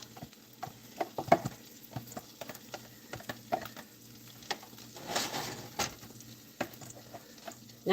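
Onions sizzling in a pan while a spatula stirs them, a soft steady fry with frequent scraping and clinking strokes, close but fairly quiet.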